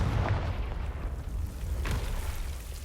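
A Confringo blasting spell in Hogwarts Legacy bursts with deep, rumbling booms and a rolling low-end blast, fairly close and moderately loud.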